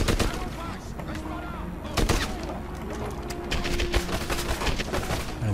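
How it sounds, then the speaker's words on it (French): Gunfire aimed at the player in the video game Medal of Honor Airborne, with a few sharp shots standing out over dense battle noise and a steady musical score. "Qui me tire dessus."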